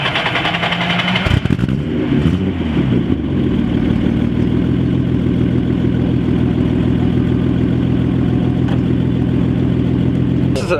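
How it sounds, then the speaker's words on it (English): The original stock L28 inline-six in a 1977 Nissan 280Z starts up and idles loudly and close by, with a steady, even throb. "This is a stock engine."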